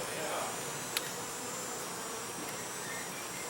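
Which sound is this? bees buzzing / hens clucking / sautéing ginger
bees buzzing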